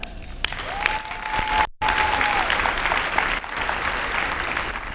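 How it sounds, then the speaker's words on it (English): An audience at a business summit keynote breaks into sustained applause, a dense, even clatter of many hands filling the room, briefly cut by a short gap of silence. "So clap it up."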